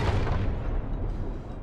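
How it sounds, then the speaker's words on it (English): Bomb blast in Ori and the Blind Forest, a deep, loud booming rumble that fades over about a second and a half, heard alone. "Can I bomb this open?"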